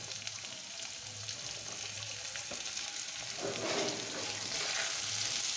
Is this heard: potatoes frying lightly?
yes